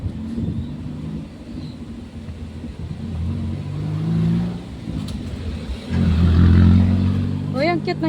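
A jeep engine rumbles past on a road in Cavite, a steady low drone that swells louder around the middle and end as it goes by, with people talking over it.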